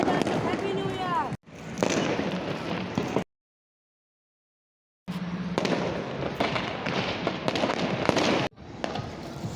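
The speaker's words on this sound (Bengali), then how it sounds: "আর আজকে দেখতে পাচ্ছেন এই যে বম ফুটানো শুরু হয়ে গিয়েছে" New Year fireworks and firecrackers burst in rapid crackling volleys, loud and close, with sharp bangs and whistling streaks, broken by a short silent gap before the popping resumes.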